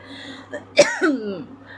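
A woman gives a single close, harsh cough with a voiced, rasping tail, set against a quiet indoor background with a faint low hum.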